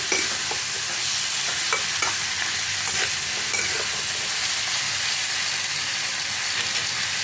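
Lote fish (Bombay duck) stirred in a hot pan gives a steady, even hiss of frying, with a few soft scrapes from the stirring and no talking.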